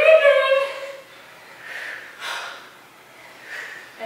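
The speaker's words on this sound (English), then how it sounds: "I hear me breathing." Heavy breathing during a full body workout, a few loud, harsh breaths and snorting exhales spaced about a second apart, close to the microphone with no talk.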